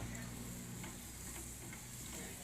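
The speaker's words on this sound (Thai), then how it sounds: "ตอนนี้มาขึ้นเตาแล้วกำลังปิ้น สีกำลังงาม" A whole marinated pig roasting on a grill, a faint continuous crackle and sizzle of fat with a low steady hum beneath, no voices.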